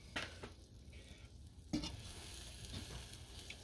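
Eggs with chopped onion and cabbage sizzle in a pan for an Ugandan rolex omelet, a soft steady frying hiss broken by a few scraping stirs, close and quiet.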